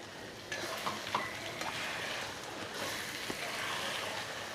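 Cashew, onion and green chilli paste fries in a pan, giving a steady soft sizzle with a few faint stirring clicks, close and fairly quiet.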